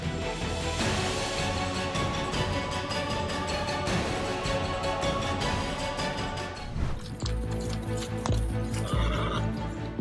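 Wild horses neigh and whinny loudly amid clip-clopping hooves as a herd gathers to protect a foal from a wolf, with dense overlapping calls and stamping.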